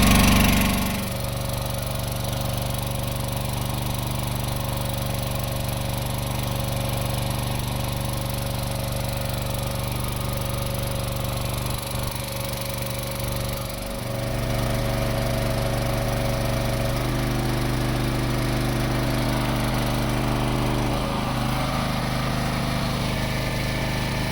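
A Champion CPG7500E2-DF-EU 7.0 kW dual-fuel generator runs on petrol under load, a loud, steady engine drone close by that shifts pitch slightly midway, with no talk.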